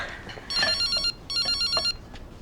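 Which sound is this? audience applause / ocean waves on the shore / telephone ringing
telephone ringing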